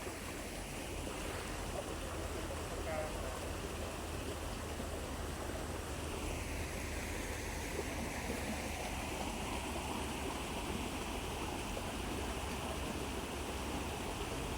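Water flows steadily in a Thai rural stream or channel, a continuous near rush and babble with no breaks and no voices.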